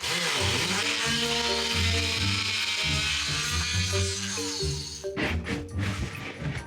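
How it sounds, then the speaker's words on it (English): A power tool buzzes loudly and continuously as it cuts into a brand-new cabinet during an underground build, then stops abruptly and leaves rough knocks and rattles. "Let's cut into our super expensive cabinet we just bought."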